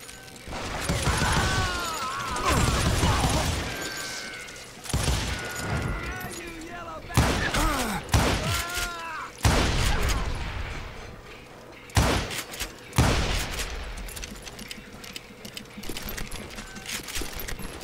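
Gunfire from hired gunmen in a Western video game, sharp shots going off in bursts with slams and mechanical clatter between them, over a backdrop of game sounds and echoing voices.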